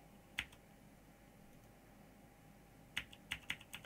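Sharp keystroke clicks on a computer keyboard, one isolated tap and then a quick cluster of four or five taps, close and clear over a low steady room hum with no talking.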